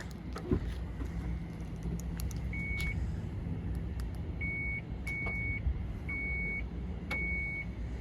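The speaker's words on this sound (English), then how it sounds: "It'll beep at you 3 times, and then it will come down." Short electronic warning beeps, several in an uneven sequence, from a 2017 Dodge Grand Caravan's power rear door, over a steady low rumble of background noise and engine hum.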